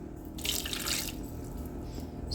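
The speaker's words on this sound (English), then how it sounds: "Now I go ahead and add just a tad bit of purified water" Purified water pours into a pan of browning hot Italian sausage, a close burst of splashing and hiss lasting about half a second before it fades to a soft sizzle.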